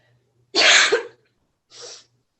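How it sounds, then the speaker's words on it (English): Two sharp, breathy coughs in a quiet room, the first loud and forceful and the second shorter and softer, heard close and alone during a staged theatre reading. "How long have you had that cough?"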